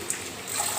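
Cold water rinsing fresh chhena (cheese) in a cloth for rasgulla, a soft steady wash of running water lasting under a second, close and fairly quiet.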